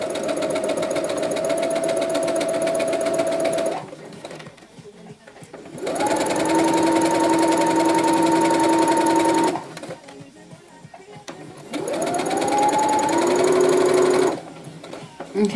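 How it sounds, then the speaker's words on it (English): A sewing machine stitches a drawstring travel bag in three loud, steady running bursts, pausing twice between them as the fabric is turned. "And then we just start sewing again."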